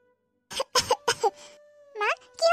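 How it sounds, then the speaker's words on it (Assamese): A woman coughs three or four times in quick, close succession in a home setting, then speaks briefly afterward. "এই অলপ কাহ হৈছে অ'"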